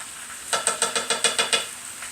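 Roasted garlic paste being spread around a pan of fresh spinach: about eight quick, evenly spaced scraping strokes, close and fairly loud, with no talking.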